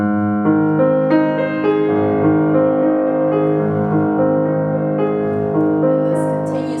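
Piano accompaniment from Liszt's Petrarch Sonnet 123 plays alone, sustained and continuous, with rich low harmonies and steady repeated figures over nearly seven seconds at moderate loudness.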